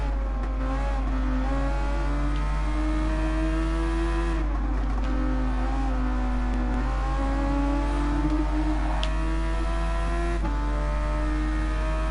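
A race car engine from the Gran Turismo Sport video game drones at high steady revs. The pitch dips and climbs through shifts and corners, sustained and prominent throughout, with faint tire noise.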